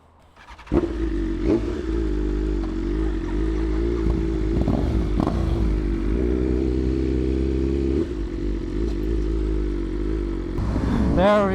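A motorcycle engine runs steadily at close range through a ride, with a mid-pitched hum, a few rev changes and brief clatter near the end.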